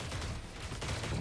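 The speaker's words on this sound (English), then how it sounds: "I'm hearing gunshots" Gunfire in a video game comes as a dense, muffled volley of rapid shots, steady and fairly faint, with no speech.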